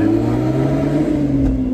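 Honda S2000 movie car from The Fast and the Furious idling at a stoplight, a loud, steady engine drone with a low hum, close by, with no speech over it.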